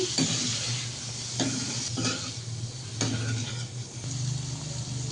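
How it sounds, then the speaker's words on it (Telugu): Tofu pieces are tossed with red chilli powder and other spice powders in a hot pan: a steady close sizzle broken by a few sharp pan clicks and scraping tosses, with no voices. "ఇలా ముక్క ఇరగకుండా టాస్ చేసుకొని అన్నీ పడేలాగా టాస్ చేసుకోవాలండి"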